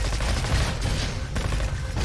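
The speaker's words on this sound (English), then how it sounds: "This is the Raptor SMG." Rapid SMG gunfire from the Raptor SMG in a hard roguelite shooter game, a dense continuous burst of shots running the whole time at steady loudness with no talk over it.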